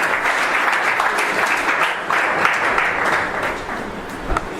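A church congregation applauds and cheers during worship, a dense, sustained wash of clapping filling the room at steady loudness for several seconds, with no single voice standing out.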